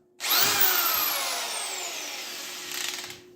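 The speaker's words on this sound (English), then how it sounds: "Drywall gun." A corded drywall screw gun spins up with a loud, steady high-pitched whine, running continuously for about three seconds before winding down slightly at the end, heard alone without talk.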